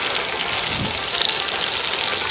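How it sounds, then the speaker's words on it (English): Steady, dense sizzling of chicken browning in a hot Dutch oven over a campfire, loud and continuous with no pauses or voices. "Got a nice sizzle going on."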